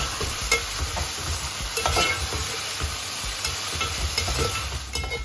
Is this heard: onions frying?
yes